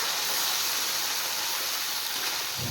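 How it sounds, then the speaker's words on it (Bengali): Garlic, onion and ginger paste frying in a pan, a steady bright hiss of oil sizzling close up, continuous and even throughout without talk. "এবার দেব পেস্ট করে রাখা রসুন, পেঁয়াজ আর আদা। এবার এটা একটু আমি ফ্রাই করে নেব।"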